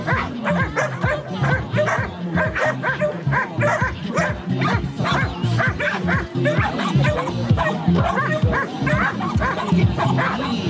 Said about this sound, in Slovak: Je tu samotné vyštekanie